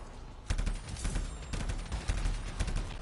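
Anthem gunfire: rapid automatic bursts crackle in quick clusters, fairly close and sharp, with a few short pauses between volleys and no talking over them.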